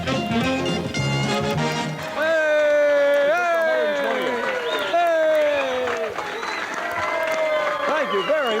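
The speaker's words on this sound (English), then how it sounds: "Listen to that crowd." Studio audience at a televised bowling game show at Red Carpet Lanes North in Milwaukee, Wisconsin, bursting into loud sustained cheering and applause, with a host talking over the crowd noise.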